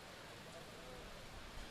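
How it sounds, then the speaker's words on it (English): Rain falling over a rugby match between Police SC and Havelock SC, a soft steady hiss of drizzle, faint and continuous, without talking. "it started raining. Started with a slight drizzle, but the rain has definitely picked up since"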